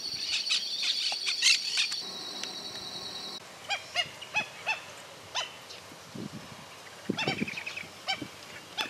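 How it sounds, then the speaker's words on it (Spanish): Parakeets or parrots calling outdoors in the Paso de las Piedras countryside of Santa Fe, Argentina, with a series of harsh, squawking cries at mid distance over a steady background of insects and wind. "Tampoco podían estar ausentes las cotorras o loros."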